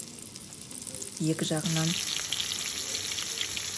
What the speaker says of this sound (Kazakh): Енді котлетімді жасап алып, майға қуырдым.